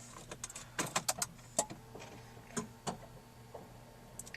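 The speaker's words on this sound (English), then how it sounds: "You can kind of hear a bunch of whirring and noises and clicks and relays going on." A Smart electric car powers on with a quiet, faint whir and a scattered series of crisp relay clicks and ticks at irregular intervals, with no talking.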